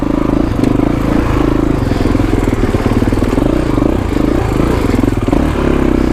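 A 2021 Kawasaki KX450X dirt bike engine chugs steadily in low gear on a technical single-track trail, loud and close throughout, with clattering and scraping from the terrain mixed in.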